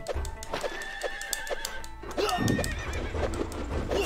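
A horse in the beat 'em up video game Clan N gives a loud whinny alongside clip-clopping hooves and game effects, with no speech.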